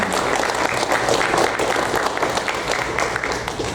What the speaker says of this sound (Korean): 영광의 박수.